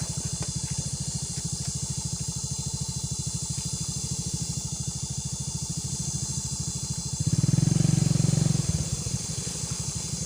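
A lowered motorcycle engine idles steadily with a rhythmic putter, briefly swelling louder in a short rev before settling back to idle.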